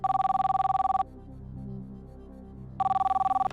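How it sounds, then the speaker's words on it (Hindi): A telephone rings on a television quiz show as a call is placed to a contestant's friend: two bursts of electronic trilling bells separated by a quiet pause with faint background hum. "सुरेंद्र कुमार जी को फोन लगाया जाए"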